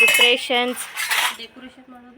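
Metal pots and vessels clink and clatter as they are scrubbed and washed, a few close, ringing knocks in quick succession.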